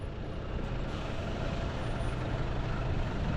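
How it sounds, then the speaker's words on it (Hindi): Vehicle arriving on the mountain road at Zoji La Pass, a low, steady engine rumble that swells gradually, heard alone without talk. "तो ये देखिए जी, विवेक जी की गाड़ी आ गई है"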